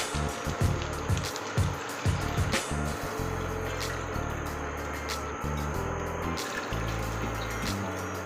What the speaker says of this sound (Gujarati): હવે આમાં આપણે પાણી ઉમેરશું 2 વાટકી।